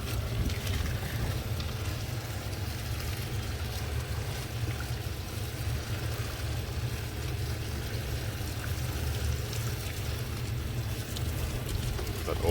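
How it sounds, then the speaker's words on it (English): A hot-water pressure spray blasts grease off an engine, a steady loud hissing rush like almost instant steam that continues unbroken, close to the microphone, with no talking. "So this water's pretty much like this. Just comes out as almost instant steam."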